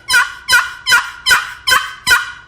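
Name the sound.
turkey box call imitating a turkey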